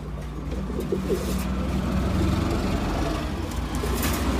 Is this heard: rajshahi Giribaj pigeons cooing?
yes